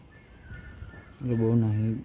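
A peacock calls nearby outdoors with one loud, sustained honking cry that follows a stretch of quieter ambient noise.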